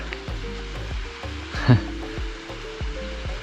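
Waterfall at Cañón de la Zorra in Baja California Sur, Mexico: a steady broadband rush of falling water runs throughout, with a few low thumps mixed in and one brief louder swell near the middle.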